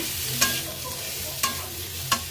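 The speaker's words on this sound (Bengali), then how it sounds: "মশলাটাকে ভালো করে একটু কষিয়ে নেব।" Spices being stirred in a pan as they fry: Kashmiri chilli, turmeric, cumin and coriander powder cooking over a gas flame, with a steady low sizzle and three distinct stirring scrapes spaced evenly apart.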